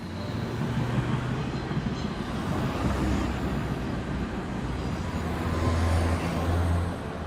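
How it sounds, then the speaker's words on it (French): City traffic heard from the rooftops of Berlin, a continuous distant roadway rumble with a low droning wash that swells gently and never stops. "Avec la circulation en guise de bruit des vagues."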